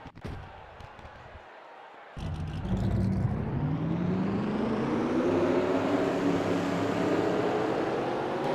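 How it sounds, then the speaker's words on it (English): A field of 15 stock cars at a Budweiser Shootout race start, after a quiet murmur, bursts into engine roar, then rises in a steady, loud, building rev as the pack gets rolling. "Drivers, start your engines!"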